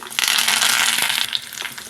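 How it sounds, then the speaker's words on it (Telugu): Mustard seeds, cumin, cut dried red chilli and curry leaves hit hot oil for a buttermilk rasam tempering, a loud, close, continuous sizzle with crackle and no voices. "ఆవాలు జీలకర్ర వేసుకోవాలి అలాగే రెండు ఎండుమిర్చి కట్ చేసిన ముక్కలు వేసుకోవాలి కరివేపాకు వేసుకోవాలి"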